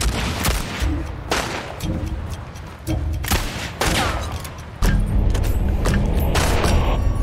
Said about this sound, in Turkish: Farklı bir silah ya bu drill.